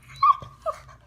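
Puppy whimpering in two short, high-pitched whines close by, separated by a brief pause in a quiet room.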